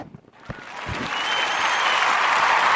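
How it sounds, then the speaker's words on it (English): Podcast crowd applause and cheering that starts after a few scattered sounds, then swells into a steady, broad roar of clapping that stays loud to the end. "No, please don't cheer for that."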